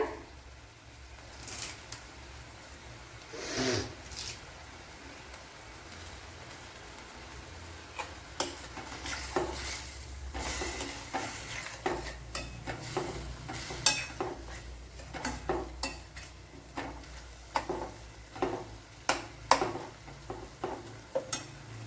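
Curry leaves dropped into hot oil in a pan while making cauliflower curry, a soft steady sizzle broken by a run of sharp clicks and scrapes from stirring, growing busier toward the end.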